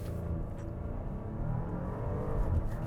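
A 2024 Porsche Cayenne Coupe with a turbocharged 3-liter V6 launches under launch control, its engine note rising steadily with a firm gear shift near the end, heard fairly faint with no talking.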